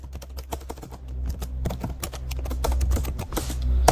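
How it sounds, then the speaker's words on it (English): Fingers tapping out text on a tablet screen in Apple Freeform, a quick irregular run of light, close taps over a low background hum, with no speech. "So double tap on it and just type."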